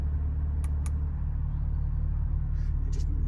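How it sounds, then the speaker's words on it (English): A 2019 Porsche 991 Targa 4 GTS engine runs at a steady low rumble close by, with a deep constant drone and faint brief clicks above, and no clear rev rise showing. "I'm not one to sit here revving cars, but you can see here a change in tone."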